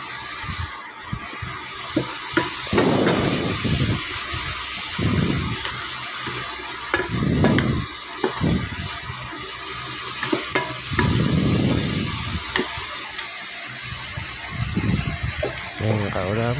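Sautéed cabbage with scrambled egg and oyster sauce stirred in a pan, a steady sizzle broken by repeated scraping strokes of the spatula, close and moderately loud, with no talking.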